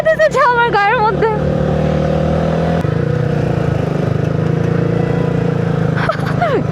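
A motorcycle engine drones loud and close on a muddy mountain road descent, its steady pitch stepping down as gears shift, while voices talk over it.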